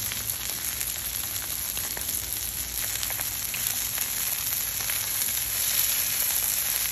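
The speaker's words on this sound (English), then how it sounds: "you wanna give them a good crust right in the bottom on this steak" Chuck steak sears in a hot pan with a steady, loud sizzle and crackle throughout, the frying constant and close with no talking.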